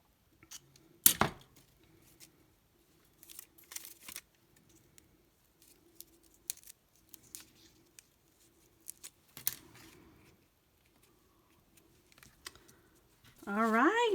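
Scissors trim ribbon on a handmade folded card, giving short scattered snips and paper rustles separated by near silence, ending with a brief burst of voice.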